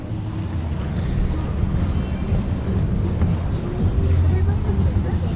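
A private yacht under sail on Sydney Harbour, with steady wind buffeting the microphone and a low rushing of water and hull noise, continuous and loud, with voices faintly underneath.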